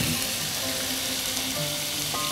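Chicken casserole sizzling and frying in a pan while it is stirred with pepper, salt and spice powder, a steady close hiss with faint scraping, no voices.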